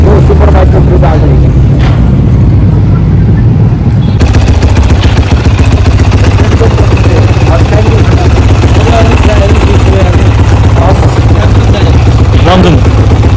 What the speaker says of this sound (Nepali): अब मन लाग्यो यो सुपर बाइकको ग्रुप आएको